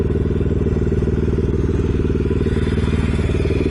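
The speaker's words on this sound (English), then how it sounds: "77 Yamaha XS500 Cafe Racer" A 1977 Yamaha XS500 cafe racer fitted with a smaller front sprocket idles close by, its twin-cylinder engine thumping in a fast, even, loud pulse with a faint clattery edge throughout.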